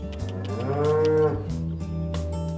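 Beef cattle mooing up close on a small working farm: a long, loud, drawn-out moo swells in the middle, with shorter lowing calls around it and no talking.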